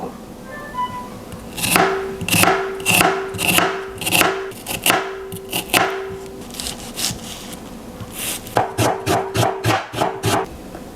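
Shallots being chopped on a board with a knife, a steady series of sharp, close knocks in quick bursts, pausing briefly before another rapid run of strikes.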